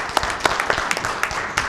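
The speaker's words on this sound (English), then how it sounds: "Round of applause for the young men and women from the Anchor Bay Junior ROTC." An audience at a township board meeting applauds the Anchor Bay Junior ROTC young men and women, with a brief run of scattered, uneven claps at moderate loudness.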